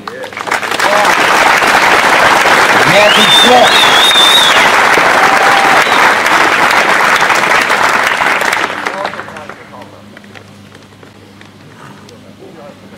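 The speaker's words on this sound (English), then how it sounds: "Please give a big round of applause to our high school band" A big round of loud crowd applause for a high school band at a South Lyon Memorial Day ceremony, sustained for about eight seconds with voices calling over it, then dropping to quiet as someone speaks.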